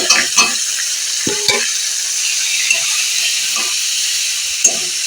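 Drumstick spinach greens fry with dry chilli in a hot pan, a steady loud sizzling hiss broken by several scraping stirs of a spatula.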